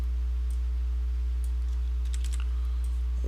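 Rapid keystrokes on a computer keyboard, light clicky taps in short bursts over a steady low electrical hum, close and fairly quiet.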